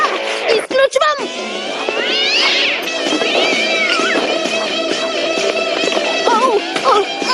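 An agitated cartoon cat meows and caterwauls in long, rising and wavering yowls, loud and near, over a busy animated soundtrack with other noises.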